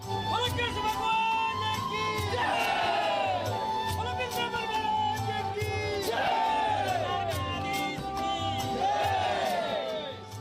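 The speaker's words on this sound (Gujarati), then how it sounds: "રાજ્યના મંદિરોમાં ભક્તોની ભારે ભીડ જોવા મળી" A dense crowd of devotees packs temples on Gujarati New Year, with loud collective shouts and chants swelling in repeated waves over a constant babble of many voices.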